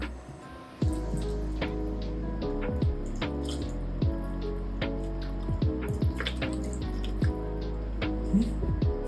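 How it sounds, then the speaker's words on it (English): Broth is poured into a pot of lasagna soup. Steady liquid pouring runs throughout with splashy drips and clinks over a continuous low hum, fairly close and moderately quiet. "let's add in our broth"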